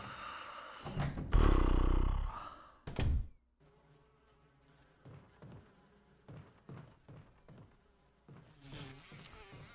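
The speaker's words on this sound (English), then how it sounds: "Jesus Christ, these bees are brutal." Bees buzzing in the video game Resident Evil Remake HD, a few loud buzzing swells and thuds early on, then fainter intermittent buzzing bursts against a quiet background.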